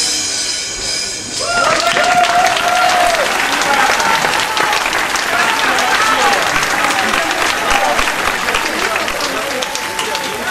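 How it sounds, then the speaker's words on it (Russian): Loud, sustained applause from a concert audience after a pop song, a dense wash of clapping that swells in after a brief musical tail and continues steadily to the end. "ваши аплодисменты"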